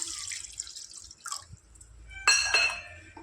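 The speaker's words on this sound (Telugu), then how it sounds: "నేను ఒక కప్పు వాటర్ పోసుకుంటాను" Water trickling and dripping into a cup, with a brief clink of a vessel and a short brighter splash near the end; quiet and close.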